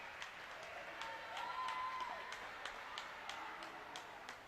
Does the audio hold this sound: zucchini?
no